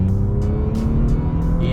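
A 2019 Bentley Continental GT's W12 pulls hard under acceleration, a loud, steady low engine roar that holds throughout with a rising tone near the end.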